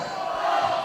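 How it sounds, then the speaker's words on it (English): Wrestling arena crowd chanting, split between Ugg and Wahlberg, a dense sustained roar of many voices filling the hall at steady volume. "The crowd is split. Ugg chants, Wahlberg chants."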